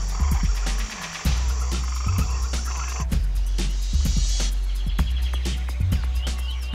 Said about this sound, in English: frogs croon to their partners at night